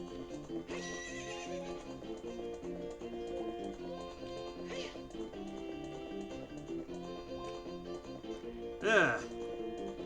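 Epona the horse in the Ocarina of Time 3D video game gives a loud whinny near the end, with galloping hoofbeats running under game music throughout.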